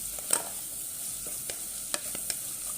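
Chicken and vegetables stir-fried in a pan with white pepper, salt and Chinese salt for egg fried rice, with a faint steady sizzle and a few sharp spoon-on-pan scrapes and clinks spaced irregularly.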